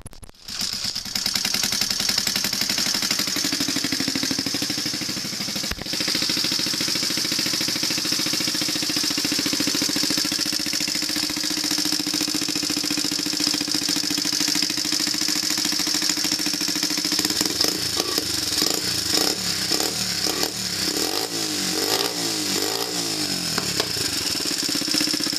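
A Lifan 125cc motorcycle engine with a leaking exhaust runs steadily after a kick start, a loud, close, continuous buzzing drone with rapid pulsing. It holds an even idle throughout with no talk.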